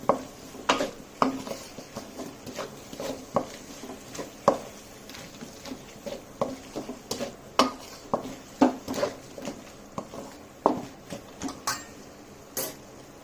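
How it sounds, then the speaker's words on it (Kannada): Two potatoes frying in a pan for mushroom masala gravy, with repeated sharp clinks and scrapes of a utensil stirring against the pan over a soft background sizzle, no talk. "ಆಲೂಗಡ್ಡೆ ಒಂದು 5 ನಿಮಿಷಕ್ಕೆ ಚೆನ್ನಾಗಿ ಫ್ರೈ ಆಗಲಿ"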